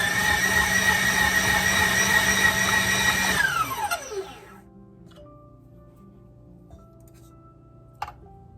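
An electric hand mixer whirs steadily through molasses cookie dough with ginger, then winds down and stops partway, leaving faint clicks and a sharp tap in the near-quiet that follows.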